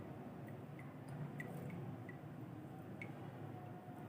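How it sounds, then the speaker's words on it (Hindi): Water dripping and squelching as homemade mozzarella cheese is squeezed out by hand, with soft scattered drips over a low background hum and no talking. "इस तरह से करके हमने इसका पानी जो है निकाल लेना है।"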